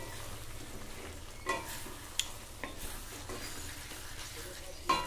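Flat beans with chicken skin and spices are stir-fried in a pan, a quiet sizzle broken by occasional spatula scrapes and light taps against the metal.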